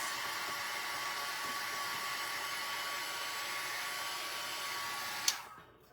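Drying tool blowing over waxed paper embellishments, a steady loud whooshing airflow that holds evenly for several seconds before switching off abruptly near the end, with no talking.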